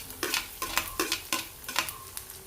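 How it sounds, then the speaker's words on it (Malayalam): Onions go into a pan with half-cooked coconut and are stirred, giving a close sizzle broken by several scraping strokes of a spoon in uneven rhythm, with no voices. "നമുക്ക് ഉള്ളി ഇട്ട് കൊടുക്കാം."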